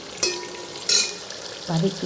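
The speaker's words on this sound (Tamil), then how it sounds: "ஒரு 3 குட்டி சைஸ் தக்காளி வச்சுருந்தேன், அதையும் வதக்கிக்கிறேன்." Tomatoes stirred and sizzling in a pan, with a few scraping strokes over a soft frying hiss.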